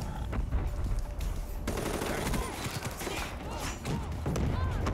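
Rapid automatic gunfire from the Razorback weapon in Black Ops 3 crackles in dense, continuous bursts over game noise, with scattered talk mixed in.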